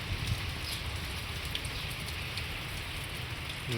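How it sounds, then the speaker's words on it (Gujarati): Steady rain falls with an even, dense hiss of drops hitting the ground, fairly soft and unbroken from start to finish. "વરસાદથી જ બધી હરખાઈ ગઈ છે અને ચાલુ જ છે"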